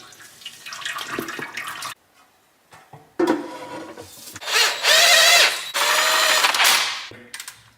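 Power tool driving the transmission pan bolts on a Duramax, in bursts of ratcheting whir with short pauses between, loud and close, with no talking.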